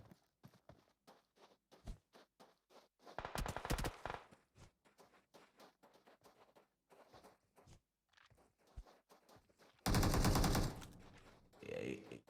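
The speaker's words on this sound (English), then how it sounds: "Cobra's already started firing at Ezra." Gunfire in an online multiplayer video game match comes as rapid, scattered shot bursts with two loud, dense volleys, some near and some farther off, with game sounds between them.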